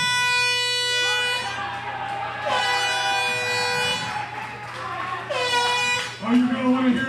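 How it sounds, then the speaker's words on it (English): Blaring air horn blasts in a Rockstar Pro Wrestling video game, three long sustained honks separated by short gaps, loud and close over a low steady hum, with a final deeper burst at the end. "Somebody take that air horn from that imbecile."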